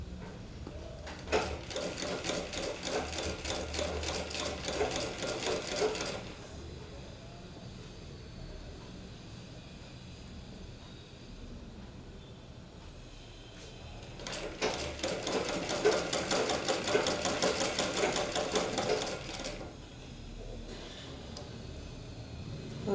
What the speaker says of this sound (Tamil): உங்களுக்கு ஸ்லீவ்ஸ் தைக்கிறதுக்கு இந்த ஹாஃப் போர்ஷன் தனியாக, அந்த ஹாஃப் போர்ஷன் தனியாக தைக்க போகிறோம்